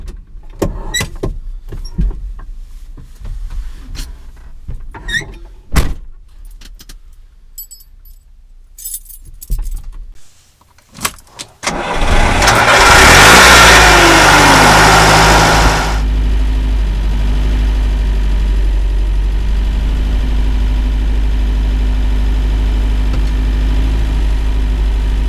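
Robur LO 2002 truck: keys jangle and clicks, then the engine cranks, catches with a loud roar, and settles into a steady low rumbling idle close by.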